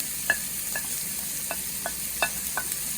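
Red pepper, green pepper and carrot stir-frying for Singapore curry noodles: a constant sizzle with a spatula scraping and tapping the pan at irregular intervals.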